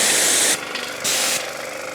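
An airless high-pressure sprayer, a repaired dump find, hisses out a fine mist in two loud bursts, each roughly half a second long, with a quieter motor hum in between.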